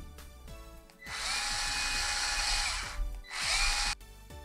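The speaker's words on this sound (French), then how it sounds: "maintenant dévisser nos deux grandes vis." A power drill or electric screwdriver whirs steadily while backing screws out of an RC truck, two sustained high-pitched runs separated by a short pause, close and clear with no speech.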